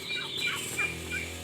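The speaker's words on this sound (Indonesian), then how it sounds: "Ini saya ngerawat anakan bebeknya, ini ada 9, 6 dan 4, berarti 19 ekor." Crested ducklings, about one and a half months old, call in a raised backyard brood with a few shrill, rising peeps over a soft background, close and fairly clear.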